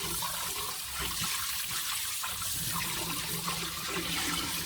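A live octopus is rinsed under a steady, loud stream of running tap water that pours continuously and close up, with faint splashing as it is handled.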